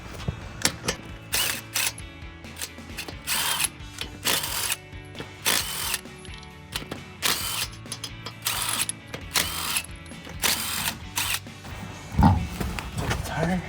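An impact wrench removing lug nuts from a Ford F-150 front wheel, firing in a series of short loud rattling bursts separated by brief pauses, close by in a garage setting.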